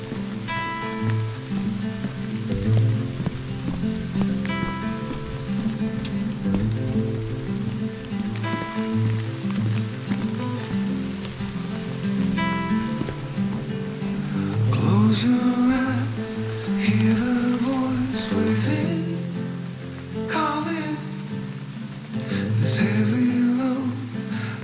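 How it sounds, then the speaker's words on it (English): Steady rain patters on trees during an overnight backpacking trip at the Apostle Islands on Lake Superior, a continuous close hiss with rustling and brief sharper bursts and no talking. "Seems like the rain is starting to pick up a tad, but I'm also partially covered by the trees and everything."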